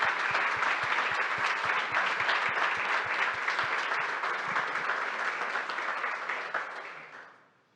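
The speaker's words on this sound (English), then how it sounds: "can you wave for us while we give you a round of applause?" An audience applauds mentors with loud, steady clapping throughout a room, holding strong before gradually fading out at the end.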